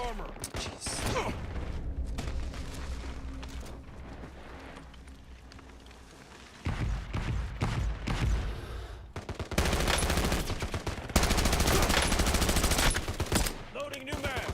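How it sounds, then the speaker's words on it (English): Video game gunfire crackles in rapid bursts and sustained automatic volleys, growing denser and louder in the second half, with a few quieter gaps between strings of shots. "Incoming fire! There goes their armor!"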